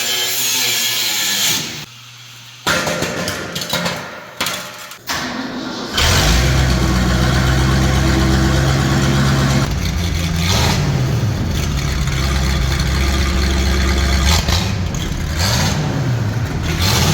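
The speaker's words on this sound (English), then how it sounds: "it definitely got that throaty V8, which I love" A classic farm truck's throaty V8 engine fires up and settles into a loud, steady rumble after a few seconds of mechanical clatter, with brief revs rising and falling over the sustained idle.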